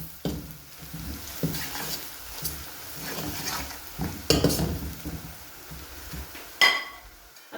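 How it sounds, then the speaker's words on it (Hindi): Spices frying in oil in a pan while being stirred, a continuous low sizzle broken by scraping strokes and a few utensil clacks against the pan, close and fairly quiet. "अच्छे तरीके से 30 सेकंड तक मैं मसालों की भुनाई करूँगी"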